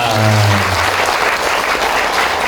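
Lecture audience applauding at a talk in Daejeon; loud, dense crowd clapping throughout, close and continuous, with a brief voice over the start.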